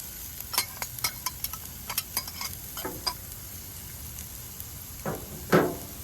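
Red onion frying in a pan alongside mushrooms, a soft steady sizzle broken by scattered clicks and scrapes of stirring, fairly quiet and close.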